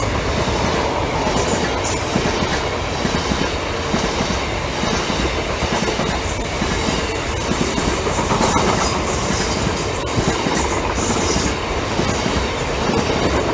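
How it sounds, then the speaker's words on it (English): A train passes a level crossing at Reepham, loud and close throughout, with a steady rumble of wagons, rhythmic clickety-clack over the rail joints and occasional wheel squeal. "Here's train 2 of 2."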